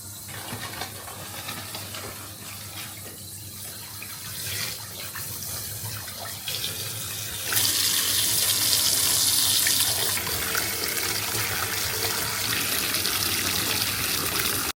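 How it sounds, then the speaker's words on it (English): Tap water runs steadily into a filling bath with bubbles, a continuous close rushing that grows louder and brighter about halfway through as the flow increases, with no talking over it. "I don't know if you can hear me over the running water"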